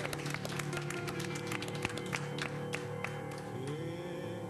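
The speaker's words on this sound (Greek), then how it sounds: "Ένα χειροκρότημα παρακαλώ" A live studio audience claps in a dense spatter of handclaps, steady and moderately loud, with a musical tone lingering underneath.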